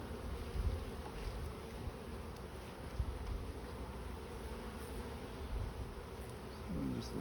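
Honeybees swarm densely over an opened hive frame, a continuous close droning buzz with individual bees zipping past the mic, loud and alone without speech.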